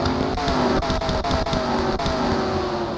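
An MG race car engine at Sonoma in a racing video game, 2008 MG Cup Series, held at a loud steady whine with stepped pitch changes from quick gear shifts, close and continuous.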